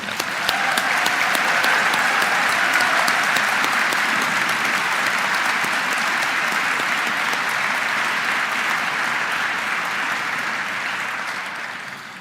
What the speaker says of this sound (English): Could you have a round of applause for that?